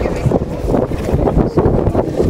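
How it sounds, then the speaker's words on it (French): Strong wind in Portugal buffets the microphone with low, rumbling gusts, steady and close throughout the short stretch. "Il y a du vent, hein?"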